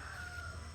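A rooster crows at sunrise in the Konaseema countryside, a single sustained call heard at moderate distance over a steady low rural background.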